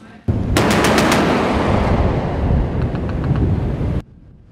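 Naval ship's gun firing at a sea target during a crew competition, a rapid burst of heavy shots followed by a dense, roaring stretch of gunfire with wind noise, loud and close, ending abruptly after about four seconds.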